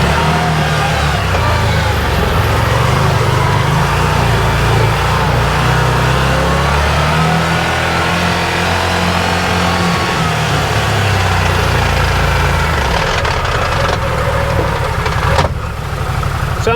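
An Odes 1000 X4 LT UTV drives through a garden with a loud, close, continuous engine roar and drivetrain whine that holds steady throughout, briefly shifting in pitch near the end.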